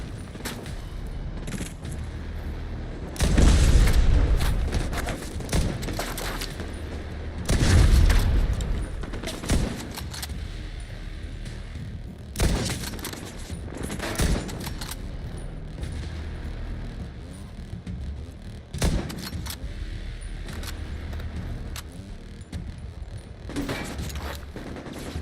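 Gunfire and heavy grenade-launcher explosions in The Division 2 video game: two deep booming blasts early on, then scattered shots and sharp cracks through a sustained firefight.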